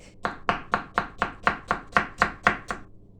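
Knife strikes on a board slice through zucchini in a quick, steady rhythm, about ten crisp, close chops evenly spaced before stopping.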